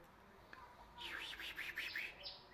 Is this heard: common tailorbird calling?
yes